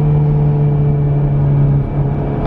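Steady turbo engine and exhaust drone from a 2017 Honda Civic Type R, a smooth vacuum-like whoosh over a low sustained hum with a strong tonal line, holding level with a brief dip near the end and no talk.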